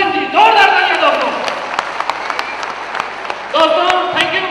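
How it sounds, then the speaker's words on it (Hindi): An audience at a Safe Shop recognition event applauds for Mr. Mahipal Singh, the clapping running beneath a man's loud, tonal voice that speaks at the start and again near the end. "जोरदार तालियां दोस्तों।"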